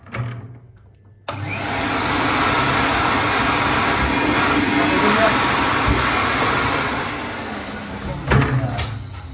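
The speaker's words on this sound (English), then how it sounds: "Me vacuum my place." A household vacuum cleaner runs steadily indoors in a home, starting abruptly after a quiet moment with a low hum and sustained broadband whoosh, then tapering near the end amid brief knocks and a voice.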